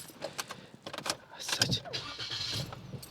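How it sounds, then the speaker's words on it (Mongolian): A Suzuki Jimny engine cranks and starts at close range, with clicks and rustling in the cabin before the motor catches and settles into a steady idle. "Би одоо машин асааж үзье."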